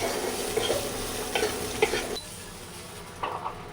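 Food is lightly stir-fried in a pan with salt and black pepper powder, giving a low steady sizzle with a few soft scrapes and utensil clinks from stirring, close and without voices.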